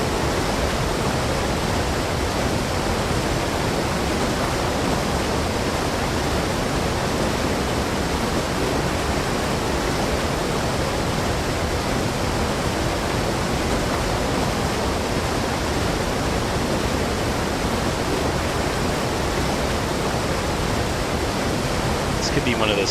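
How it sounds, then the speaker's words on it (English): A roaring waterfall in the fishing video game Call of the Wild: The Angler, a loud, unbroken wash of rushing water that fills the whole stretch without pause. "It's really loud with the waterfall."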